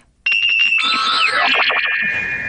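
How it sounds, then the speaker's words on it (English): A telephone rings with a loud electronic ringtone that starts abruptly after a moment of silence and warbles continuously for the rest of the moment. "let's call Thomas and see how he answers the phone"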